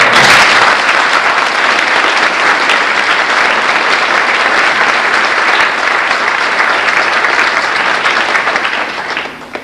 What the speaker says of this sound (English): Would you like to give them a round of applause?